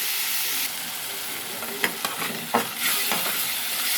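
Raw prawn curry fries and sizzles in oil in a pan, a steady hiss with several short scraping stirs of a spoon partway through, close and fairly loud.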